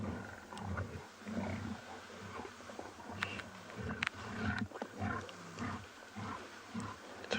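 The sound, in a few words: wild animals snarling and calling on safari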